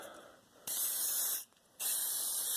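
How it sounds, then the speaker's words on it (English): Lubricant sprayed from an aerosol can onto an axe head during restoration, two loud close hissing bursts, the first about a second long, then a brief pause before a second burst. "get the lubricant out,"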